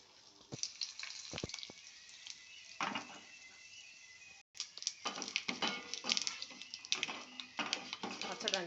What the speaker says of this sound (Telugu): నేను మట్టి కొంచెం తాలింపు పెడుతున్నాను